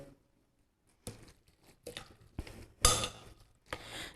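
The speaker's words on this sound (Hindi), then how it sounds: "और अब इस सब को मिक्स कर लेंगे अच्छे से ताकि ये एक जान हो जाए।" Chicken marinade ingredients are mixed in a bowl, with a series of soft clinks, scrapes and wet stirring noises in short irregular bursts after a quiet start.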